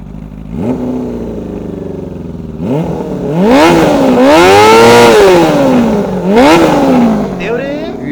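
A 2003 Honda CB400 SuperFour Hyper VTEC Spec III motorcycle engine cranks and fires, then revs in rising and falling swells that peak loudly mid-clip before a final blip, recorded up close with no talk over it.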